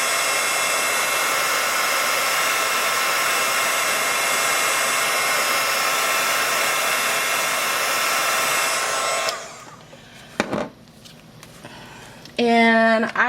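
A heat tool blows with a loud, steady whooshing hiss while drying acrylic paint, then cuts off, leaving a few handling clicks and a brief stretch of someone talking.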